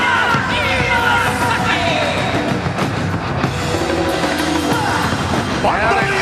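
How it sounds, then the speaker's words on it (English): Crowd cheering during fighter introductions at the Pride Shockwave 2002 fight event, a loud, continuous roar of yells and whoops from a large arena, with announcing and commentary voices mixed in. "The crowd, listen to that response for Vanderlei"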